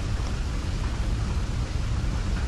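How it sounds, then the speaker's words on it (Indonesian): Steady, dense rainfall fills the scene in the horror video game Resident Evil 4, a constant broadband hiss with low rumbling underneath and no voices over it. "Apa karena hujan?"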